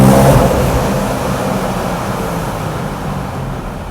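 A 2013 BMW M3 with a supercharged V8 and titanium exhaust pulls away, a loud engine roar that is strongest at the start and then eases off into a steady, fading drone.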